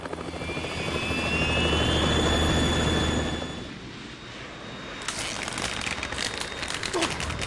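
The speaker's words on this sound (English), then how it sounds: "Otacon, we're in trouble. It's the Harrier." Harrier jet in the Metal Gear Solid video game, a loud roaring engine hum that swells and fades, followed by a brighter rushing, crackling sound.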